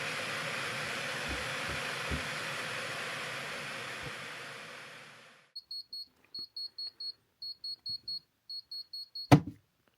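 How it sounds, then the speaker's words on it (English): A bedside alarm clock beeps in short, regular bursts, about eight evenly spaced pulses, after a steady noisy stretch; a brief thump at the end as it is silenced. "my alarm went off at 4:30"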